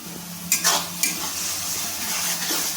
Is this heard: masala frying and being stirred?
yes